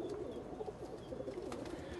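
Breeder pigeons coo softly in a loft in Faisalabad, a faint, low, continuous murmur of overlapping coos.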